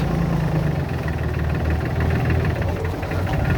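A Solis 26 Extra tractor engine runs steadily at close range, a continuous low diesel-like rumble with no pauses or speech over it.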